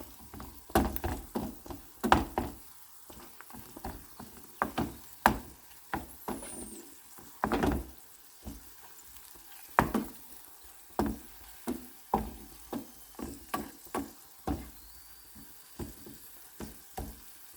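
Onions with chili and black pepper stirred in a pan, a quiet run of repeated spoon scrapes and knocks against the pan over a faint, low sizzle.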